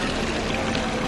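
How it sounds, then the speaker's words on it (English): Water pouring and splashing steadily from the Nine Cannon Fountain, a 17th-century stone fountain with nine spouts in Aix-en-Provence, a continuous broadband rush heard close and loud with no talk. "Now this one is the Nine Cannon Fountain."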